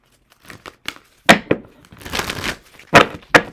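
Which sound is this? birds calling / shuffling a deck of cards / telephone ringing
shuffling a deck of cards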